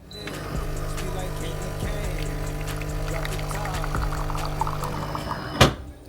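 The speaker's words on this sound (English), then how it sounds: "I have this coffee machine." A home coffee machine brews and pours coffee, with a steady mechanical hum and liquid trickle running throughout, then a sharp clunk near the end as the cycle finishes.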